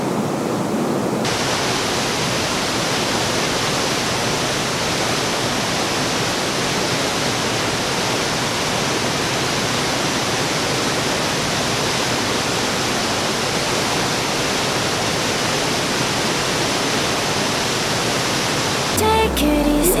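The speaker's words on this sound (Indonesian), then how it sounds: "Nah, jadi di air terjun Tansi 4 ini ada 2 air terjun." Tansi 4 waterfall in Solok Selatan, a two-tiered fall, roars in a constant, loud, full wash of water for the whole stretch, with a brief extra sound near the end.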